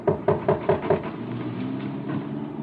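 Five quick, firm knocks on a wooden door in an even rhythm, close and distinct, then a quieter muffled stretch with faint indistinct sounds.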